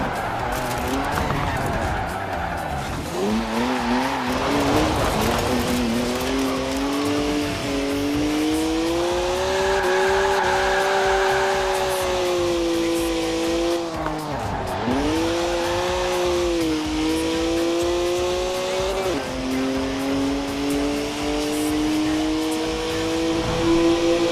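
A BMW in the Forza Horizon 4 racing game revs and shifts continuously, its engine note rising and dropping through gear changes, with tyre squeal mixed in, loud and sustained throughout.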